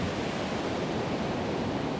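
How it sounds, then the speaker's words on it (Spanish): Ocean waves on a black sand beach in Ecuador roll and wash continuously, a steady full surf roar close by with no talking. "Allá está la Caro, disfrutando de las olas"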